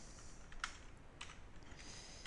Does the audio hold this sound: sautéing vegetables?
no